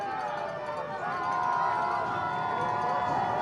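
A football crowd at a varsity high school game roars and cheers as players wave the stands on, a steady, swelling wash of voices that rises midway and holds loud.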